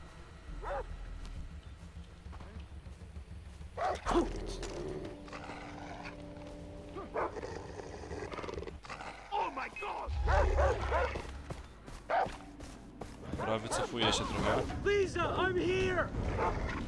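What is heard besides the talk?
dog barking in the video game Far Cry 3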